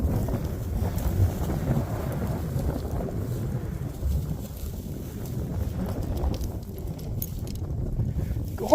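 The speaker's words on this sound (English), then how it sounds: "It's 60 degrees today with the wind." Wind gusts across a microphone outdoors on a farm with a sheep working setup, a continuous low rumbling buffet that stays steady throughout with no talking.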